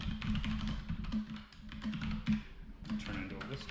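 Fast typing on a computer keyboard rattles along steadily under a voice as he talks through a beginner data project in Python, with keys tapping continuously close up.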